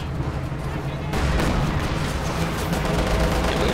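Battle gunfire and artillery in Company of Heroes 2, a World War II strategy game with an infantry support gun and Panzershreck anti-tank troops, dense and continuous, growing louder partway through with booming impacts under a steady rumble.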